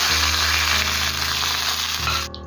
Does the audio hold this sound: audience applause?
no